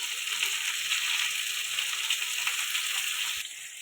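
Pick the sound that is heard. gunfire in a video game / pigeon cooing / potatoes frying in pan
potatoes frying in pan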